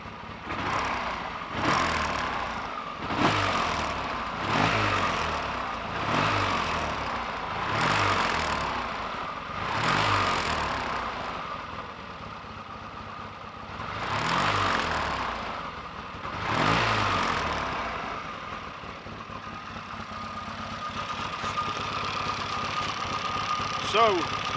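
Triumph T140 twin-cylinder motorcycle engine running evenly after ignition fixes, pulsing through repeated rises and falls in revs with steady firing throughout, fairly close and alone.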